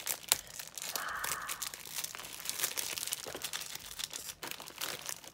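Close, quiet crinkling and tearing as a tightly packed package is pulled open, with irregular papery rustles, crunches and rips scattered throughout.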